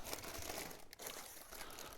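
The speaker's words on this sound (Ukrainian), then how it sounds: "Розкриваємо цей пакетик." A small plastic packet from an AliExpress parcel is torn open and crinkled by hand, giving a steady, close rustling and crackling with a brief pause partway through.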